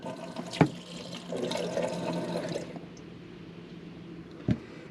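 Water runs from a tap at reduced pressure in a camper van, a soft steady gush and splash lasting a couple of seconds, framed by sharp clunks of the tap handle at start and end, close and quiet.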